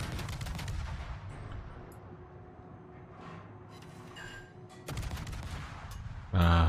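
Naval gunfire in World of Warships during a D-Day Omaha Beach operation: loud bursts of ship guns firing at the start and again near the end, with rumbling battle noise in between and no talk.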